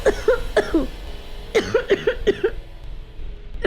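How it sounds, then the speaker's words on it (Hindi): A person coughs repeatedly and close up, in several short harsh bursts grouped in clusters of two or three with brief pauses between them. "खांसी"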